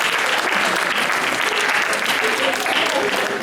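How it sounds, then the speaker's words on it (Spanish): School debate audience of fifth- and sixth-grade primary pupils giving a loud, sustained round of applause, dense clapping at steady volume throughout. "Un aplauso."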